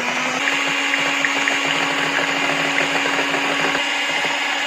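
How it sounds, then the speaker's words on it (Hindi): An electric beater whirs steadily as powdered sugar is gradually beaten into cream for a pineapple cream cake, a continuous close motor hum with no talk. "चीनी को थोड़ी थोड़ी मिकदार में डालते जाएंगे और इसे बीट करते जाएंगे"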